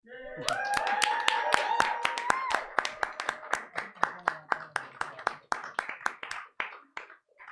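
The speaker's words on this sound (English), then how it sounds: "Big round of applause for Chloe, please." A small group applauds Chloe during a Dungeons & Dragons actual-play session: close, distinct handclaps that start thick and quickly thin to a few sparse, slowing claps, with voices briefly heard early on.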